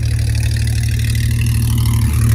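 A Porsche 911 GT3 (992) engine idles loudly and steadily up close after a warm start, a deep, throbbing rumble with an even pulse throughout.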